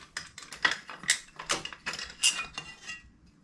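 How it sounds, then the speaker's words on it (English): A 1/4-inch ratchet with a 5/16 socket loosens the sprocket cover bolts on a Hawk 250 DLX motorcycle, making rapid bursts of metallic clicking close by, in several uneven runs with short gaps and no speech. "I am using the 5/16 1/4-inch ratchet"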